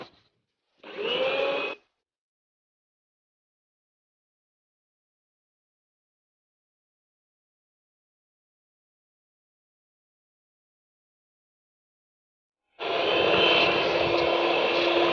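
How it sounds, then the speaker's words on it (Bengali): A kitchen blender runs on low speed through pandan cake batter, a loud steady whirring motor heard in two bursts, a short one near the start and a longer one at the end, with silence between. "এবার আমি লো স্পিডে ব্লেন্ড করে নিব এটা"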